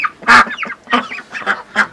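Peking Star ducks on a farm give loud, close, repeated honking quacks in quick bursts, about five calls in two seconds, with no talk over them.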